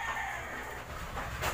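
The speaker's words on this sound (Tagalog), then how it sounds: "Inaalagaan kong manok." Pet fighting roosters kept for hobby make soft, continuous clucking and low chicken murmurs at moderate distance, with a brighter burst near the end.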